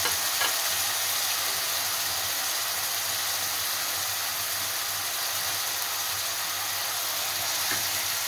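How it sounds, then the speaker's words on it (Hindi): Tomatoes hit a pan of frying onions for a lauki malai sabzi, giving a steady, close sizzle with bubbling and stirring scrapes that hold at an even level throughout, with no talking. "अब ये टमाटर भी हम डाल देते हैं।"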